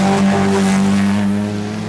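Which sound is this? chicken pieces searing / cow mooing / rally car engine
rally car engine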